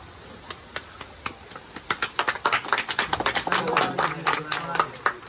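People clapping on a Bigg Boss Assam reality show episode, scattered claps that build into a fuller burst of uneven, fairly close hand claps, with voices talking underneath.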